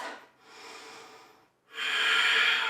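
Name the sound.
slow breathing during yoga pose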